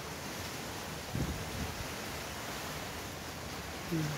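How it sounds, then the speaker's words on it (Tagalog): A steady, rushing roar of strong wind in rainy weather, continuous and fairly even, with a brief voice heard near the end. "Ay, grabing hangin."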